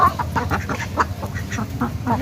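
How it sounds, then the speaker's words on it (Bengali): Four white ducks quack in a canal, a string of short nasal calls at moderate distance in a steady rhythm over light background noise. "চারটে হাঁস সাদা, বেশ সুন্দর।"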